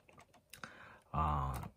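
Keys of a Hermes Baby portable typewriter clatter in a few scattered strikes, then a dense burst of rapid, close typing.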